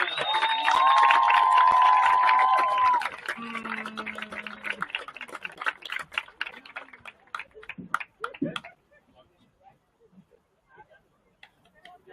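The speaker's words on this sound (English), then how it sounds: "let's have one more round of applause for 3 graduating seniors" A crowd at a women's college soccer game cheers and applauds loudly at first, then the clapping and shouts thin out and fade into scattered claps and quiet.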